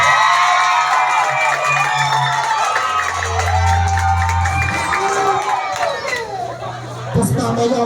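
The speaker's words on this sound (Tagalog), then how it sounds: "palakpak na may sigawan" A loud crowd at a family reunion show cheers, shouts and whoops for the Sensya family, a dense sustained roar of mixed voices with children's shrieks rising throughout.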